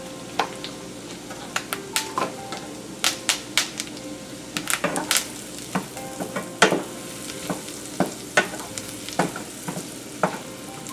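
Thyme sprigs and shallots fry in rendering fat for a Bordelaise sauce, a soft steady sizzle broken by frequent sharp taps and scrapes of a utensil stirring the pan, close and unvoiced.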